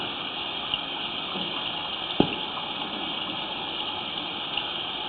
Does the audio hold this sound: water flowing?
yes